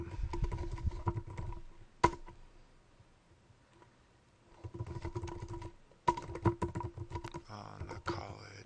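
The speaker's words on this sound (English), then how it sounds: "So let's type something." Bursts of quick, quiet clicking keystrokes on a computer keyboard, typed in short runs with pauses between them, close by in a quiet room.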